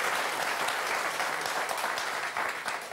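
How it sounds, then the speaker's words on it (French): A studio audience on a French TV word game show applauds in a steady, dense wash of clapping that holds at an even level throughout, heard from a middle distance with no voices over it. "On va vous applaudir très fort."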